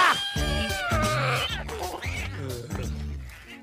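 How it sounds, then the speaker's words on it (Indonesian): A cat meows in the animated film The Bad Guys, a string of loud, close, drawn-out wailing cries with shifting pitch, repeated several times in quick succession. "menolong seekor kucing yang nyangkut di pohon"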